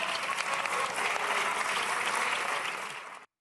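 Sustained, dense applause fills the French National Assembly, a steady wash of clapping from a large crowd that holds at full strength before cutting off abruptly near the end.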